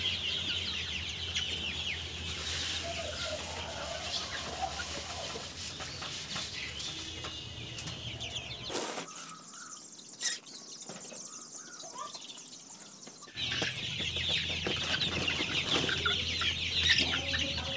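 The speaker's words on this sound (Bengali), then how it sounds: "তো এখন আমি মুরগিগুলোকে খাবার দিয়ে দিব।" Chickens and chicks on a poultry farm cluck and chirp steadily at feeding time, a constant crowded chorus that briefly quietens midway before resuming at full strength.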